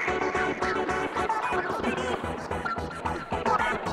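A busy electronic synth loop runs with stuttering glitch chops, rapid arpeggiated notes and a slowly sweeping bandpass filter, dense and loud throughout with no voice.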